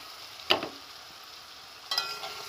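Stirring and frying in a pan while making soybean potato curry, with two brief scraping, sizzling bursts separated by a quieter steady sizzle.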